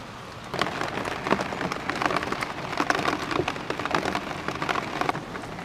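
Heavy rain pours and patters on surfaces, a steady loud hiss with scattered drips and splashes close by, no voices.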